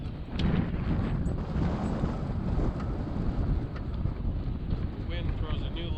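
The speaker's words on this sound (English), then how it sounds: "Wind throws a new level of difficulty into the game, especially since I have to cast into it." Steady wind roaring across the microphone outdoors while fishing with a baitcaster, a continuous buffeting rush filling the whole clip.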